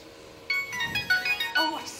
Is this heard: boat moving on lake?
no